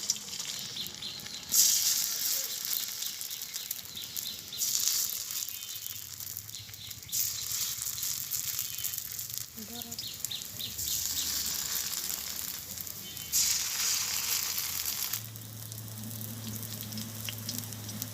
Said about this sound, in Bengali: তেল গরম হয়ে গেছে এখন শাপলার বড়াটা দিয়ে দিচ্ছি